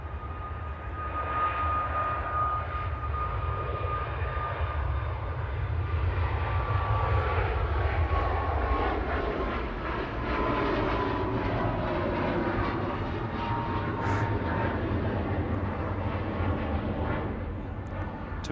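An airliner on flight 2626 at Manchester Airport makes a steady, broad jet roar that holds at a constant loud level for the whole stretch, with a faint high whine over the rumble.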